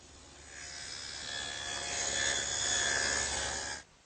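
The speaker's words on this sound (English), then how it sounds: "And I'll do that over on the table saw." A table saw cuts a dado in oak for a workbench, a close, rising buzzing grind of blade through wood that holds steady for a few seconds, then cuts off abruptly.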